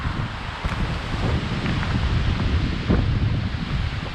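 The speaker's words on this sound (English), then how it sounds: "man, the wind is pretty brutal" Strong wind roars steadily across an exposed mountain summit on Carter Dome in the Carter range, a continuous loud buffeting rush of gusts against the microphone with no voices.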